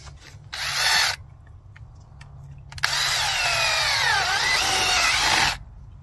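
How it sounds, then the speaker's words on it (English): A power drill boring into wet desert ground on a gold mining claim: a short burst of whirring, a pause, then a longer, louder run of grinding, close by with no talk. "Let's drill one right here and see."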